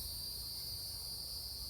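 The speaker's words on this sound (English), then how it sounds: "There's even cicadas" Cicadas buzzing on a bright June evening in Central Florida, a steady high-pitched drone filling the air, continuous and even with no voices.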